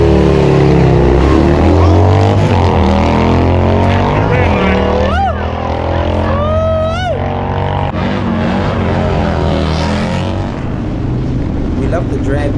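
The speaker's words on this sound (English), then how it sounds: "Tall's about to race his Zippers Performance built bike against this BMW right here" A Zippers Performance-built motorcycle drag racing a BMW at a dragway, heard as loud engine roar with rising, whining revs in the middle, set against crowd chatter and other vehicle noise throughout.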